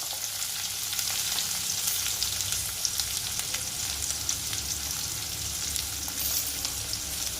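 Onions frying in a pan, a steady, dense sizzle that holds evenly throughout with occasional faint stirring sounds, fairly close and with no talking.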